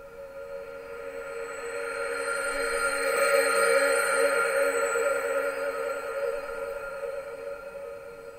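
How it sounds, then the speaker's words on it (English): A sample tuned and given vibrato with an Ableton Live 11.1 device, a sustained tonal drone whose pitch wavers gently, swelling slightly louder toward the middle and holding steady without any other sounds. "but it also adds the vibrato effect."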